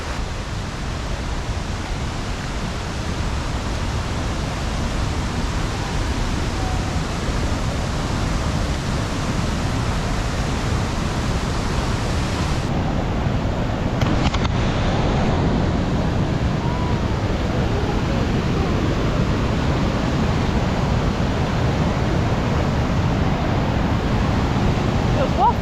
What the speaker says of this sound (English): there's a pretty big waterfall here